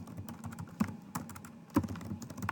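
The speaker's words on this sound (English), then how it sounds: "So I'm just going to type something quickly here." Quick typing on a computer keyboard, close and clear, with a run of irregular key clicks and a couple of heavier strikes, without voices.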